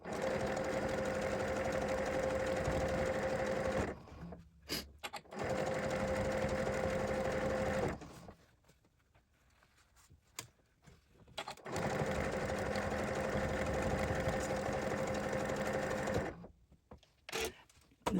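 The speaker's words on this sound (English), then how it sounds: "We got to sew across these handles and the flaps." A sewing machine stitches across bag handles and flaps in steady, fast bursts of several seconds each, with short pauses and a longer break between runs. The buzzing whir sounds close and even, with faint clicks during the gaps.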